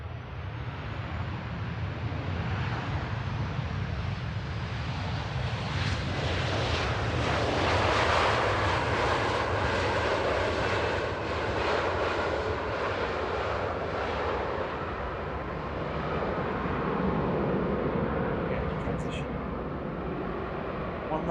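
A Ryanair airliner landing at Manchester Airport, a loud continuous jet engine roar that swells and holds before easing slightly, heard from a distance with faint talk underneath.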